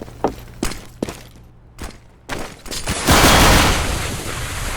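Counter-Strike gunfire from a competitive match: several separate sharp shots, then a dense burst of rapid fire that carries on loud to the end, with no voices over it.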